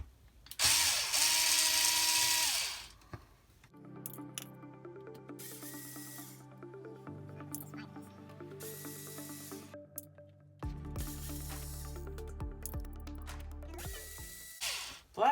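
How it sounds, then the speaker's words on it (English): An electric screwdriver whirs in short, steady bursts while backing screws out of the plastic housing of a Shark Ion robot vacuum. The close, tonal motor whine starts and stops after an opening hiss. "I'm going to use an electric screwdriver to take the screws out"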